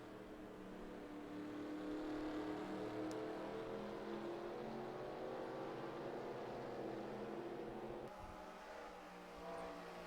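Race car engines in the NASCAR Racing 2003 video game at a Canadian track drone steadily in a sustained, fairly faint whine, pitches sliding slightly as the cars run together, with no talk.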